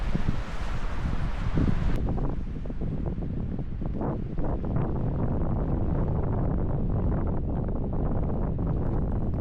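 Strong wind gusts across a rocky mountain ridge of Bulgoksan in Yangju, Gyeonggi, roaring and buffeting the microphone continuously, with rustling underneath and no voices.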